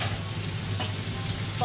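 About three and a half chopped onions frying in ghee for dum biryani, a brief, even, soft sizzle close by with no voices.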